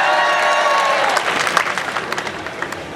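Audience at a Hindi poetry recital (kavi sammelan) at the Kalyanji fair in Gangapur City breaking into applause, a dense loud burst of clapping that thins into scattered claps toward the end, with a faint crowd murmur.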